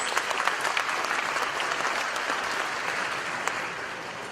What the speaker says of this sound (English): Let's give him a big round of applause for supporting our events.